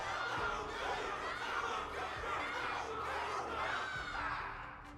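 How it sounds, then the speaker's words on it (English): A crowd cheers and shouts in the game Honkai: Star Rail during a battle, a continuous mass of excited voices with whoops and calls that fades slightly at the end. "Can't you hear? Everyone's cheering for you"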